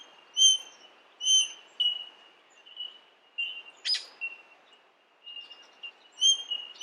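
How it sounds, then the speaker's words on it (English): Australian king parrot calls from Sydney: a series of clear, high, piping whistled notes repeated at irregular intervals, fairly close against a quiet background, with one sharper burst midway. "Male Australian king parrots are the only Australian parrots with a completely red head."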